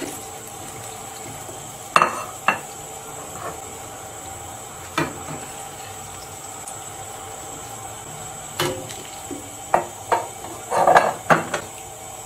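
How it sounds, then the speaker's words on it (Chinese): Pork leg bones and chicken frames dropped into a water-filled pot, scattered loud clanks and knocks of bone and metal against a low kitchen hum, with a busier cluster of clattering toward the end. "锅里面放水，倒入猪筒骨和鸡架"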